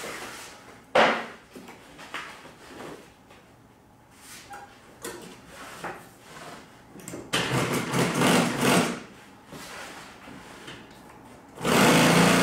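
A sewing machine top stitches a fabric cockpit cover in several bursts, running fast for a few seconds at a time with quiet pauses between.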